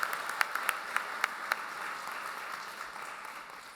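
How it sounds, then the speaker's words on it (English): Applause for the graduating class of 2025 at a health science commencement, with a few sharp, distinct nearby claps early on, then a softer, distant wash of clapping that carries on alone. "let's have one more big round of applause for the graduating class of 2025"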